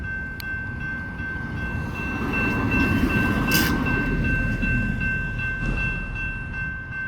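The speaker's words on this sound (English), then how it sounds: "We have an intermodal yet again." An intermodal freight train rolls past at Shell Road, a heavy low rumble of wagons with a sustained high horn tone and faint wheel clatter, fairly close and steady throughout.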